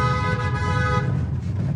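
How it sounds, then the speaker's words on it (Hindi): Car horn honking in a steady sustained toot, loud and close, heard from inside a car, with no talk over it. "और तेज बजा दे हॉर्न"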